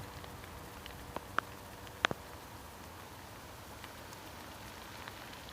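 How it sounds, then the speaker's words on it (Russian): Steady rain patters in a damp forest, a dense even hiss with a few louder drops and ticks scattered through, heard close and alone without talk. "Дождь усиливается."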